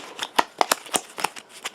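A deck of cards for the Conan board game is shuffled up close, a run of crisp riffling flicks and snaps in an uneven rhythm, with no talk over it.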